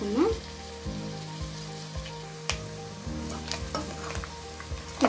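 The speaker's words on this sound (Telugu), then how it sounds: "కొత్తిమీర కరేపాకు చక్కగా ఫ్రై అయ్యింది।" Coriander and curry leaves fry in hot oil with a steady, close sizzle, broken by regular scraping strokes of a spoon stirring the pan.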